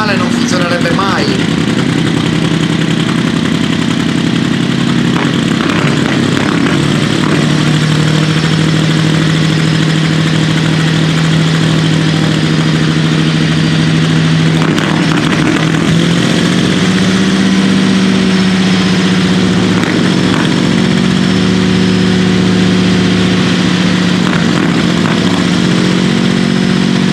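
A turbocharged tractor-pulling engine roars loudly and continuously at a tractor pulling competition, its pitch rising and falling as it strains, with a voice talking over it.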